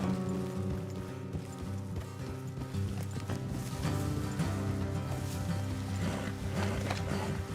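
Horse hooves clopping on a road in the video game Red Dead Redemption 2, a steady rhythmic clip-clop from more than one horse, heard alone over a dense game soundtrack and ambience.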